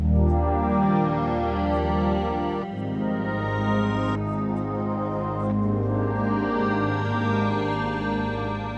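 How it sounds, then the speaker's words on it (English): A rich, sustained wavetable synthesizer chord on a 3rd Wave synth slowly shifts in timbre and pitch, its harmonics morphing continuously over several seconds. "Kind of the classic evolving wavetable thing"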